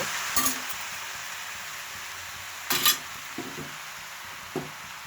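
Red amaranth greens frying in a pan, a soft continuous hiss of sizzling broken by a few clinks and scrapes of stirring, close up.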